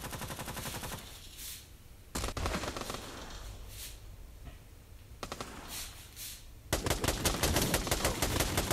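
Gunfire in the VR shooter Pavlov VR on Oculus Quest comes in rapid, loud bursts of repeated shots, broken by short quieter gaps, ending in a sustained volley.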